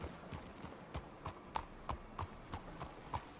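Horse hooves clip-clop at a steady walking pace on a dirt path in the video game Red Dead Redemption 2, quiet and fairly close, with no talk over them.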